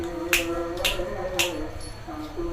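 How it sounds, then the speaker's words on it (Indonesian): A hypnotist snaps his fingers three times, each crisp snap standing out clearly against a faint background hum. "apabila mendengarkan suara jentikan jari saya seperti ini"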